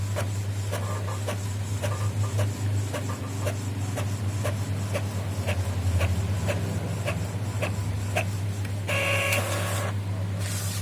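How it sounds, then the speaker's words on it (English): An Epson L3150 inkjet printer runs a test page, giving a steady low mechanical hum with regular clicking print-head passes and a brief louder paper-feed whir near the end, close and alone. "it has printed the test page"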